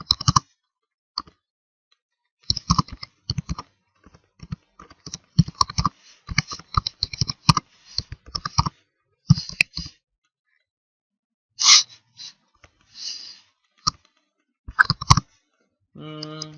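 Computer keyboard typing during an HTML class, irregular bursts of crisp key clicks and taps with short pauses between, close and fairly quiet.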